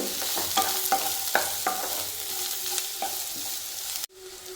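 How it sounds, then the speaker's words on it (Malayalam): Powdered cashew sautéing in a hot pan for malai chicken gives a steady, close crackling sizzle dotted with light spoon clicks, then drops sharply to a quieter hiss near the end. "അണ്ടിപ്പരിപ്പ് പൊടിച്ചത് ഒരു ഒന്നര സ്പൂണ് നമ്മൾ ഇട്ട് കൊടുത്ത് അതും ഇതുപോലെ ഒന്ന് വഴറ്റി ഒന്ന് വാടിയാൽ മതി"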